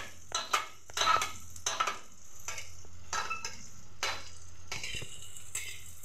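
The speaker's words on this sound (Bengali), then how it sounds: "এখন আমি দিয়ে দিচ্ছি পটলটা" Pointed gourd is stirred and cooked in a pan with a soft sizzle underneath. Repeated bursts of spatula scraping and clinking against the pan come at an irregular rhythm, fairly quiet and close.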